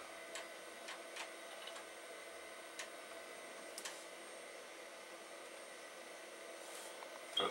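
Hard drives in an opened Amiga 2000HD grind and hum steadily at low level, with scattered faint ticks and clicks from the mechanisms and a slightly louder click at the end.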